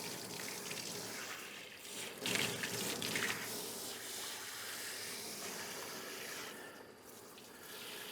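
Running water from a tap rinses out a mess in a sink outdoors, a steady close hiss and splash with a few louder surges as the flow is moved around.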